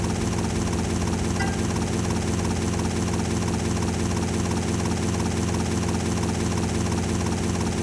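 A plane engine in GTA Vice City Stories drones without a break, a dense, loud, even roar with a fluttering, rotor-like throb that holds steady and unchanged with no voices.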